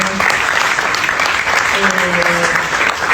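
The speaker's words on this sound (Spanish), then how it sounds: "Le pido un aplauso para Rosa, de paso." A presentation audience at the Casa por la Identidad breaks into steady, loud applause, a dense continuous wash of clapping with voices faintly mixed in.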